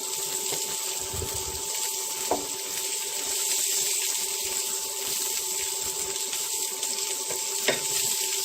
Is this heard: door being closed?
no